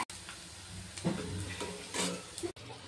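Small paneer pieces fry in a pan with a soft, faint sizzle, broken by a few light scrapes and taps of a spatula against the pan.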